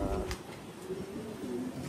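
A breeding pigeon coos softly in a short, low, throaty call, faint against a quiet background.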